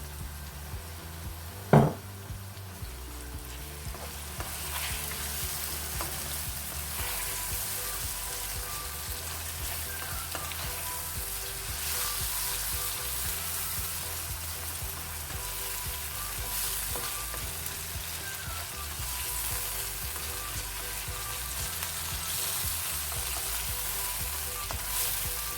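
Tomatoes dropped into frying spices in a home kitchen pan while cooking chicken gizzards, giving a continuous close sizzle with a sharp clatter near the start and faint stirring scrapes throughout.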